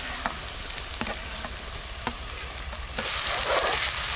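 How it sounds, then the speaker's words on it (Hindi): Onions fry on a stove with a steady, fairly loud sizzle and a few light clicks of stirring, and the crackle swells noticeably in the last second. "किस तरह से इसने प्याज को फ्राई कर दिया"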